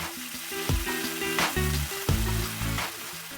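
Shaoxing wine poured around the edge of a hot pan sizzles over chicken, a continuous close crackling hiss with faint background music tones underneath.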